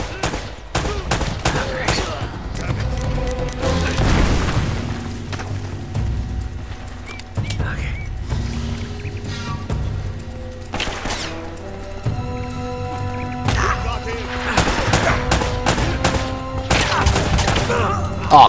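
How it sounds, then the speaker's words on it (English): Repeated gunfire in Uncharted: Drake's Fortune Remastered crackles in rapid bursts and single loud shots, with dense volleys throughout, some booming impacts, and a few background voices. "I'm shooting them like 5 times each."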